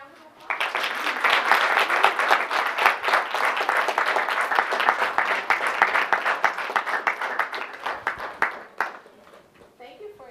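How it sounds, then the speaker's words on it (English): A room audience gives a round of applause for a visiting speaker, dense clapping starting abruptly, holding loud and close for about eight seconds, then thinning to scattered claps as it fades. "let's give him a round of applause"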